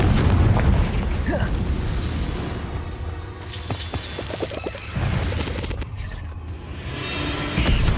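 Blasting spells in Hogwarts Legacy go off in a cave as heavy booming crashes with debris-like rumble, several explosive hits spread across the stretch, loud and close.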